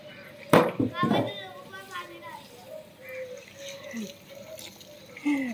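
Young children play with water on a rainy morning in Bareilly, splashing and trickling among their excited chatter, with an adult voice talking nearby and a few sharper bursts of noise.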